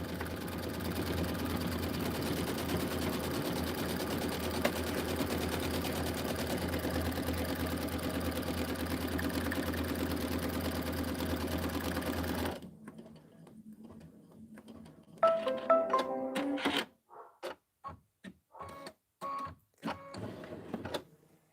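A sewing machine runs steadily for background quilting with purl thread, a dense continuous mechanical drone that stops abruptly midway, followed by quieter clicks, rustles and handling noises.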